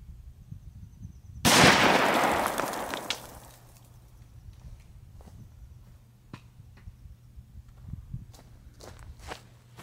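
A single loud rifle shot from a .22LR or .243 Winchester rifle fired into wood backed by cinderblock, a sharp crack with a long fading tail, followed by quieter faint footsteps and small handling noises.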